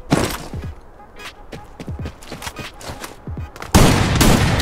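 Rapid bursts of M10 gunfire in the Free Fire MAX video game crackle close and loud, with separate shots early on and a dense, louder volley near the end.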